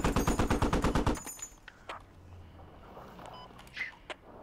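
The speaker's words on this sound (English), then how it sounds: "Shots in the bottom direction." Rapid automatic gunfire in a first-person shooter game, a loud burst of about a dozen evenly spaced shots close by, followed by quieter scattered clicks and footsteps.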